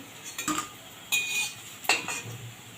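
Fried banana-flower fritters are lifted from a frying pan with metal utensils, giving three distinct scraping clinks against the pan, close and fairly quiet, with no talking.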